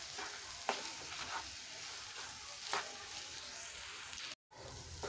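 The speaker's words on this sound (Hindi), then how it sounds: "आपको स्लो फ्लेम पर जो है इसको इस तरीके से भुनना है" Potatoes with spices, a masala for Rampur-style bread pakoda, frying and being stirred on a slow flame, a steady close sizzle with periodic scraping stirs and a brief gap near the end.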